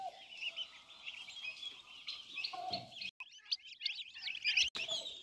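Turkey chicks out in a large open field, a flock giving soft, continuous high-pitched peeping and cheeping calls, moderately close and fairly quiet, with no one talking.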